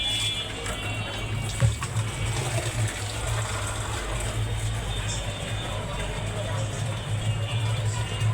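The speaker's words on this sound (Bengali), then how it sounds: "তারপরে এটিএম কার্ড ঢোকায় দিলে পরে পানি এখান দিয়ে নামছে।" Drinking water pours steadily from a card-operated water ATM booth in Dhaka. It makes a constant, close gushing stream over a low mechanical hum, with one brief clunk early on.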